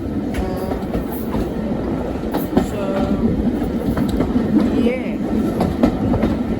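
A heritage train on the Great Central Railway runs between Ward and Loughborough, its steady rumble and rhythmic wheel clatter continuous throughout, with a brief voice heard over it.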